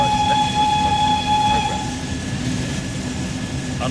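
BR-110 electric locomotive from the German standardized Einheit electric locomotive program, heard in Train Sim World 3: a steady rumbling run with a sustained tonal horn or whistle for the first two seconds, loud and close.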